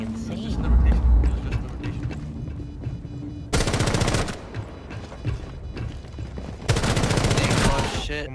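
Gunfire from the video game Rainbow Six Siege comes in several sharp rapid bursts, loud and close, breaking over a busy game mix with voices talking in between.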